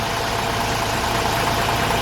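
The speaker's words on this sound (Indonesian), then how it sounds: "ternyata bus ini menggunakan mesin Hino RN ya 285" A Hino RN 285 bus diesel engine idles steadily, a continuous low rumble with an even mechanical chatter, close by and with no voices.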